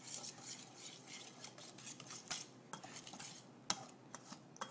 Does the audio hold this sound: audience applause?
no